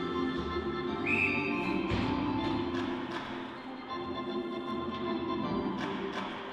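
A referee's whistle gives a short, sharp blast at a women's university ice hockey game, heard briefly over steady arena noise with scattered taps and thuds from the ice.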